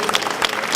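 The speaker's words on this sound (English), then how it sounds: "Give him a round of applause." Audience applause at a National Black Theatre event, a short burst of dense clapping from a crowd, steady and fairly loud with no talk over it.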